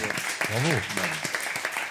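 A French television game-show studio audience applauds under a host's speech, the clapping steady and moderately close while the voice carries on above it.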